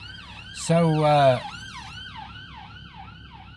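An emergency ambulance siren wailing nearby in traffic, with a loud blaring yelp burst followed by repeated rising and falling wails that carry on steadily; one brief spoken word near the start.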